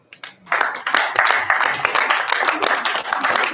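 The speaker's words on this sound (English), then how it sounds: "Yes, it's a round of applause." Audience at a business master-class event breaks into a round of applause after a veteran guest is introduced, dense steady clapping building within half a second and sustained loud throughout, with some voices mixed in.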